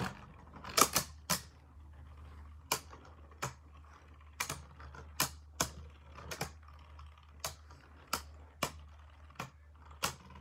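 Beyblade spinning tops clash in a plastic stadium, giving sharp isolated clacks at irregular intervals, some in quick pairs, over a faint steady whir in a quiet room.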